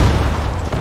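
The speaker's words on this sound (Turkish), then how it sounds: "Adam var, bomba yedi." A bomb blast in a video game lands as one heavy, close, low boom whose rumble fills the brief moment.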